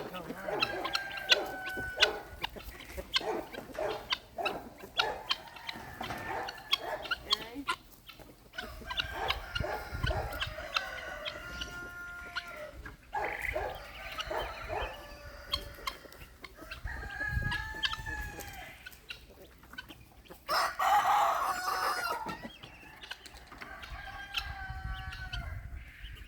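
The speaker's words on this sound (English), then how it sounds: "Chickens" Chickens cluck steadily at a hatchery while a rooster crows several times, the calls close and lively with a voice speaking now and then.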